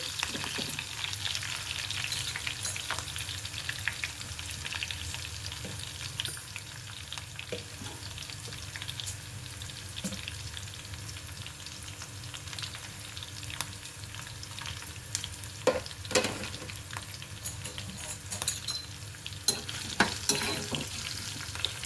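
Crushed garlic fries in oil over a medium flame, producing a continuous close sizzle with scattered crackles and light stirring scrapes throughout.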